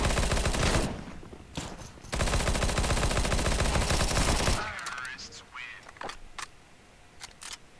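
Sustained automatic gunfire from a first-person shooter on the Shortdust map in Demolition mode roars in two long, loud, close bursts with a brief gap, then gives way to quieter scattered clicks and shots.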